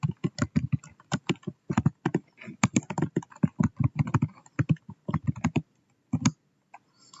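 Typing on a computer keyboard: quick, crisp keystrokes come close by in short irregular runs of clicks with small pauses, ending in a final pair of taps after a gap.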